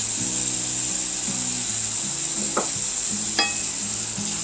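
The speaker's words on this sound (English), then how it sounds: "I'm going to add my onions. I've got 1 medium onion that I've chopped." Chopped onion sizzling in a hamburger casserole pan, a loud, steady frying hiss with a few spoon scrapes and knocks against the pan, plus a low intermittent hum underneath, with no talking.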